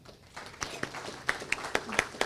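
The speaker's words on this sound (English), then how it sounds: "I'd like for you all to give him a round of applause." Scattered handclaps from a club meeting audience, a thin round of applause starting softly and building into distinct, irregular claps that stand out in a quiet room.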